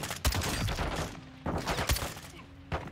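Bursts of rapid gunfire from the video game Call of Duty Modern Warfare 2 crack in several separate volleys over a muffled background.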